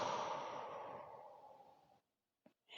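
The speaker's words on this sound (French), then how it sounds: "J'expire par la bouche." A slow, soft exhalation through the mouth during a gentle back-relaxation sophrology session, fading out over about two seconds, followed by brief faint breaths.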